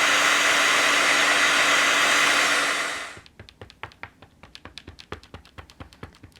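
Steady loud blowing roar of a heat tool warming paper for card-making heat embossing, running alone for about three seconds before switching off, then followed by a series of light, sharp taps.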